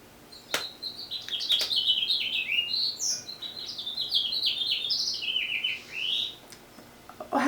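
Birds chirp outside in a lively run of quick, high, warbling tweets and trills that carry on for several seconds, with a couple of sharp clicks nearby and no voices.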